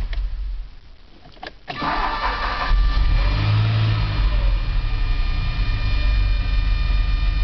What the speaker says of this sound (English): let's see how easily this car restarts.